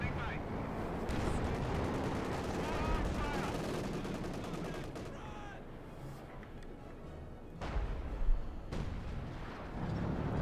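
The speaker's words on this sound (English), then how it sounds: "Howitzer keeps flying away there." A Company of Heroes 2 battle with dense gunfire and booming artillery blasts, including howitzer shots, rumbling through most of the stretch, with a heavier explosion late on and a voice talking underneath.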